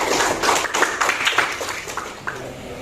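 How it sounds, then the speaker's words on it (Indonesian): Classroom participants clap together in a training session on workplace safety for welding and cutting, a scattered series of hand claps at moderate distance, somewhat uneven and thinning toward the end. "Tepuk tangan kita semuanya dulu."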